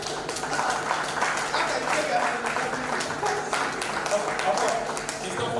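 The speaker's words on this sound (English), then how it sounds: "Clap well for her." Audience applause for someone speaker at a Nigerian Export Promotion Council event in Cross River State, a steady dense clapping wash with voices talking and calling out over it throughout.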